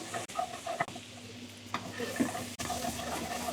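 Lula kofta kebabs frying in a pan, a soft continuous sizzle with a few sharp clatters and stirring scrapes, close but fairly quiet, no talking.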